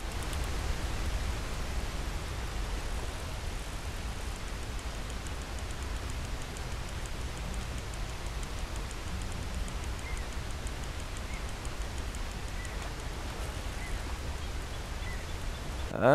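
Steady rain falls in Red Dead Redemption 2 by deeper water during a fishing outing, a continuous even hiss that holds throughout with no voices.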